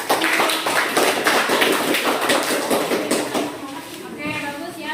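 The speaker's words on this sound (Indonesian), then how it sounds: "Kasih tepuk tangan" A class of students claps together for a correct quiz answer in a school lesson, a dense run of fast, close claps that fades toward the end, mixed with children's voices.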